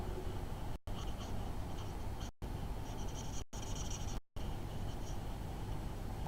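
Continuous scratchy rubbing of Stampin' Blends alcohol marker pens across paper, broken by a few brief pauses as the pen lifts, close and fairly loud.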